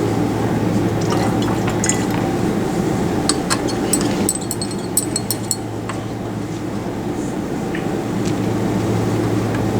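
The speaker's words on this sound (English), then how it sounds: "So go ahead and just give it a bit of a stir too, please." A solution is stirred in a glass lab beaker. Faint liquid swirling and a cluster of light glassy clinks in the middle sit over a steady background room hum.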